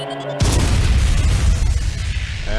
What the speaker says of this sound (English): Power bombs.